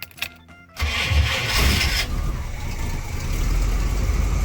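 A car engine cranks briefly, then catches and settles into a loud, steady rumbling idle close by.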